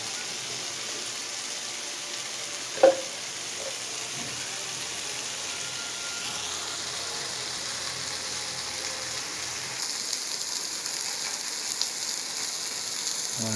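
A barramundi fish fries in plenty of hot oil. A steady, moderate hiss runs throughout, with one brief sharp click early on.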